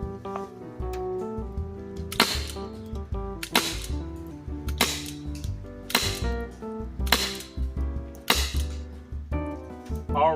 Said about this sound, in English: we're going to shoot 6 of the included darts